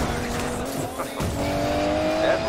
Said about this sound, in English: It's not every day I get to take Rear's DB11 for a spin.